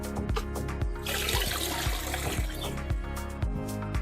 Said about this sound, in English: I'm just going to put the water feature on.